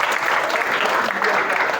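Students give a classmate a round of applause in a school setting, a steady burst of close clapping that fills the moment with no pause.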